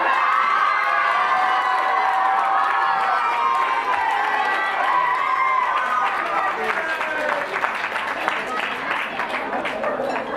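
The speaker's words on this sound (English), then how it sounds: "there was amazing applause" A crowd in Singapore cheers, whoops and claps loudly through an applause contest, a dense, sustained roar of shouting and clapping that holds steady with no break.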